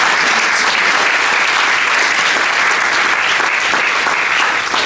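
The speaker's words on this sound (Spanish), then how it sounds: "Denle un aplauso fuerte" Loud, sustained applause fills a church service congregation, dense steady clapping throughout with no pauses, a crowd of hands close and continuous.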